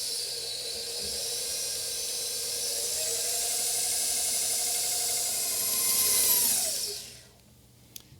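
An electric mixer whirs steadily through gluten-free cookie bar batter of flour, baking soda and salt, a close high whine that rises slightly before winding down and stopping, followed by a small clack.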